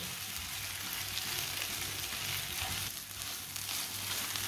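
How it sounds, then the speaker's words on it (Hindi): Carrots, cabbage and spices fry in a pan while a spoon stirs them, making a steady, close sizzle with faint scraping throughout and no talking. "2-3 मिनट के लिए मैंने इसे 3 मिनट के लिए इसे भून लिया है चम्मच चलाते हुए।"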